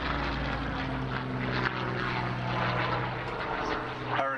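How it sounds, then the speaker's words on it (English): A Hawker Hurricane fighter flies overhead at the Wings Over Illawarra airshow, its piston engine giving a continuous throaty propeller roar at moderate distance that swells and fades slightly, with a faint knock near the end. "That engine on that fighter is typically found on the caribou we saw earlier today."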